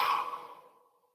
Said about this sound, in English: And then exhale and let it go.